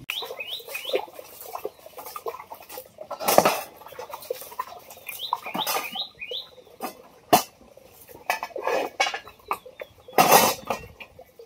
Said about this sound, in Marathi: आता लागली भांडी घासायला मी.